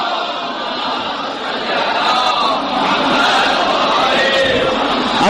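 A large mosque congregation recites salawat aloud in unison, a loud, sustained swell of many voices filling the hall with a steady roar of crowd chanting.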